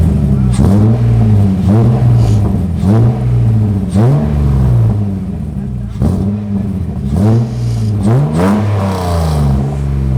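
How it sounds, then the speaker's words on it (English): A BMW E30 engine revs repeatedly in rising and falling bursts, a throaty exhaust note pulsing roughly every second, loud and close. "Pause, because the exhaust does sound pretty nice."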